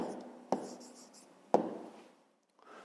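A pen or pencil writes an answer by hand on paper for a fifth-grade math exercise, making soft close scratching strokes broken by two sharp taps, then fading to near silence.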